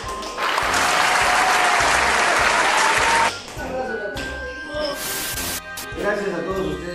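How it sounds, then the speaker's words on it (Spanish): Audience applause breaks out loud and dense for about three seconds, then fades into a busy mix of voices and shorter noise bursts. "así que démonos un gran aplauso"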